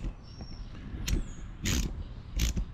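A 5/8 wrench loosening a bolt on the back of a Green Touch trimmer rack, giving three short metallic ratcheting clicks and creaks spaced about half a second to a second apart, close up, with no talk.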